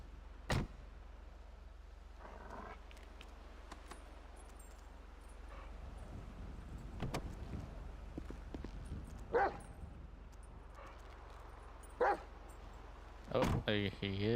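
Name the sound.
dog barking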